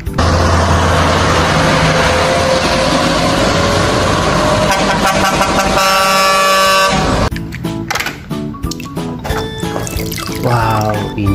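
Yellow container truck sounding a loud, sustained air horn, with dense engine and traffic noise around it and a brief break partway through.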